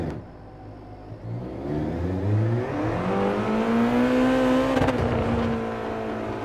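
Alfa Romeo 4C Group 3 road car in Gran Turismo Sport, its engine revving up loud and close, pitch climbing steadily through the gears with a brief dip near the end, no talking.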